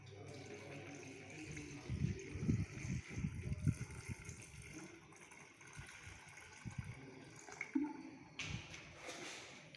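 Water pours into a container of coarse aggregate, partially filling it for a specific gravity test: a continuous gurgling, splashing rush that swells in the middle and tapers into softer trickles and drips.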